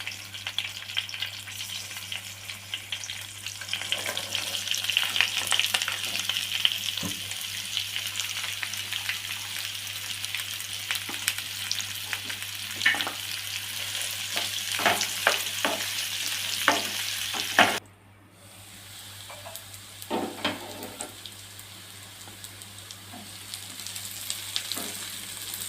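Chopped onions sizzle and fry golden with curry leaves in a hot pan, a continuous crackling hiss broken by scraping stirs, with a brief pause near the end, for a quail egg gravy.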